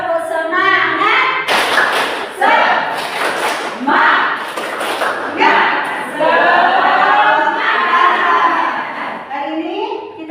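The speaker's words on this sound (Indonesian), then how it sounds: "Tepuk semangat." A classroom of children performs the rhythmic 'tepuk semangat' spirit clap, loud, close bursts of claps and thumps in patterned sequences, mixed with kids' voices chanting along throughout.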